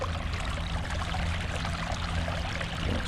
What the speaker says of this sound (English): We're going to grab just a little bit of water